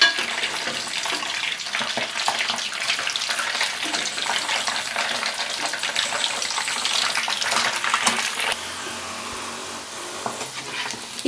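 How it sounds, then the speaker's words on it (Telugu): Chicken pieces frying in hot oil in a heavy kadai over a medium flame, giving a steady, dense sizzle and crackle that carries on throughout without pause, close and fairly loud. "ఈ చికెన్ బాగా వేగించుకోవాలి."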